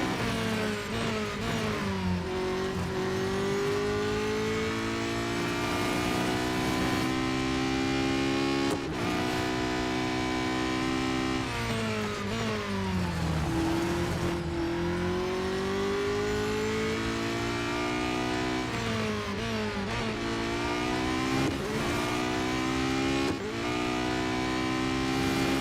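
Race car engine in the Real Racing 3 game on the final lap, a continuous loud whine rising and falling in pitch through repeated upshifts and braking, with occasional brief tire noise, no voices.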